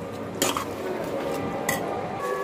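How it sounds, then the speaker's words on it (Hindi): Masoor dal and potatoes sautéed in a pot over a low flame, with a spoon scraping and clinking against the metal in two sharp strokes over a soft background hiss. "धीमी आंच पे हमें इसे 2 मिनट के लिए भूनना है।"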